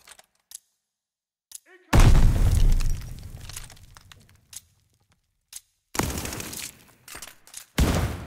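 Glide bomb blasts in Call of Duty: Vanguard: a heavy booming explosion rolls out and decays over a second, followed later by two more loud sharp bursts, with quiet gaps and faint clicks between them.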